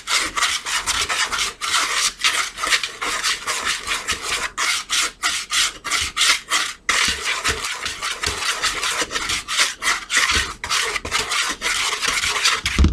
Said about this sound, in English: what you do is just whisk it around